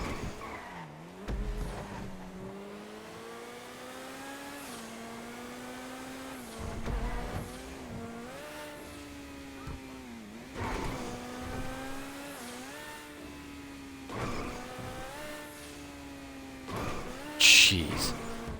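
Vapid FMJ MkV supercar racing in GTA Online, its engine revving and climbing through repeated gear shifts with short tire squeals and skids, loud and continuous over a long lap.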